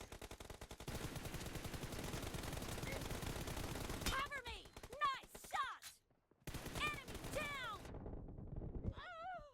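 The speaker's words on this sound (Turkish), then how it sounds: "Adama ben AK ile vuruyorum ölmüyor. Adam iki vuruyor UMP'de ölüyorum yani." AK and UMP automatic gunfire in a shooter video game. Dense, rapid bursts of fire fill the first four seconds, followed by sparser sounds with voice-like tones.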